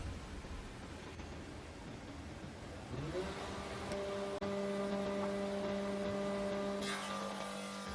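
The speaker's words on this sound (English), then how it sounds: "The rubber rollers just grip on the timber and pull it through by itself." Auto-feed timber machine with rubber rollers gripping a length of wood for torus skirting board, a steady broadband whir that steps up into a loud sustained tonal drone as the timber is pulled through, close and continuous.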